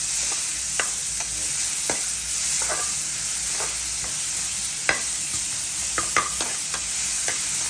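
Onions fry with browned garlic and salt in a pan, a constant bright sizzle under scattered clicks and scrapes of stirring, close and steady with no talk.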